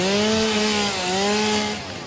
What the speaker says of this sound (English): Jetpack and chainsaw, yep.